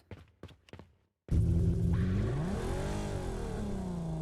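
A video game car's engine roars to life in a virtual garage and revs hard, its pitch rising and swooping in loud sustained sweeps after a few quiet clicks and a brief pause.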